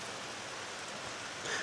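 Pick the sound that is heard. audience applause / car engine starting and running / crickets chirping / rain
rain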